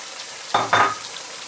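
Finely cut carrots drop into a hot pan with chicken and sizzle in two quick bursts as they are stirred, then settle back to a faint, steady frying hiss.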